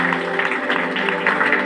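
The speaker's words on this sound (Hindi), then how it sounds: "तो मैं एक बार उनके लिए जोरदार तालियां चाहूंगा" An indoor hall audience gives a dense, continuous round of clapping that holds steady and fairly loud throughout, with no voices rising above it.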